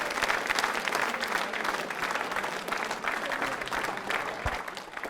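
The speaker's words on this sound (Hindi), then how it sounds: "आम्रपाली मीणा के लिए जोरदार तालियां बजाइए" An audience at a quiz show applauds a contestant, Amrapali Meena, with a steady, full round of clapping that carries evenly for about five seconds, with a faint murmur beneath.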